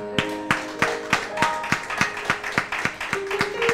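A congregation at Sunday morning worship claps in praise in a steady, fairly quick rhythm of sharp, evenly spaced claps, close and clear, with a sustained tone lingering underneath.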